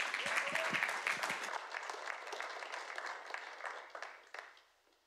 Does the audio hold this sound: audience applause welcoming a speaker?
yes